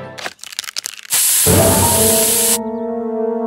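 After a few short clicks, a can of pepper spray lets out a loud, steady hiss for about a second and a half in South Park: The Stick of Truth, then a held musical tone lingers.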